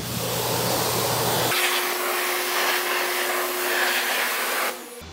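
A pressure washer sprays water onto a car in a steady, loud hiss that kicks in after a second and a half, with motor hum underneath, then cuts off near the end.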